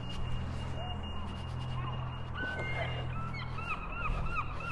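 Seagulls call at a seaside town in Bridlington, several rising and falling cries over a constant low hum of wind and background noise, with faint talk.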